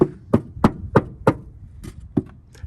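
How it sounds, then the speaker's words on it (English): A series of sharp knocks strike inside the driver's side footwell of a camper van, about eight close, evenly spaced raps that fade slightly toward the end. "I hit the screw."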